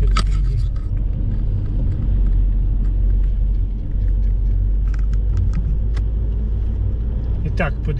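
Car driving on a road, a steady low engine and road rumble from inside the cabin, with a few light clicks and jangles, and voices talking over it.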